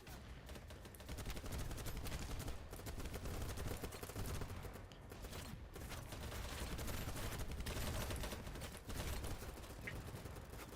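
Dense, continuous gunfire from many snipers in a video game firefight near a bridge, loud and sustained across the whole stretch with overlapping shots and no clear pauses.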